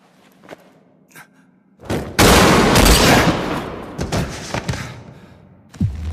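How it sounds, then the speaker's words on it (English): Shots from a double-barreled hunting gun in an anime scene: a heavy, loud blast with a rumbling tail, followed by sharper, lighter impacts and a final thump. "This guy must be using a double-barreled hunting gun."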